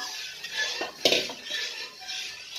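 Metal spoon clinks and scrapes against a pot while macaroni pasta with milk is stirred, a few quick close knocks with a sharper hit near the middle, no speech.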